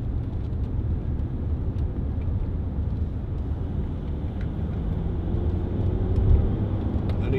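A 2010 Range Rover Sport 3.6 TD V8 diesel drives along, heard from inside the cabin as a steady low engine and road rumble with smooth, unbroken tone and no talking.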